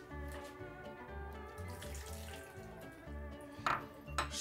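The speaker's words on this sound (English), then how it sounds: "we're just going to strain out our seaweed" Water runs and drains from a kitchen sink as seaweed is strained for ahi poke, a soft steady flow with faint clinks near the end and no talk.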